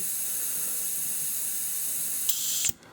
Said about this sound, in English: you're just spraying water through.